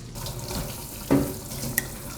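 A faucet runs steadily while the detachable debris sprayer of a Roborock F25 Ultra wet and dry floor cleaner is rinsed, with one brief splash partway through.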